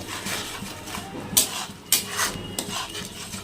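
A spoon stirs and scrapes spices with salt and turmeric as they fry in a pan for atta Maggi noodles. Irregular rasping scrapes and a few sharper knocks against the pan sound close over a steady background hiss.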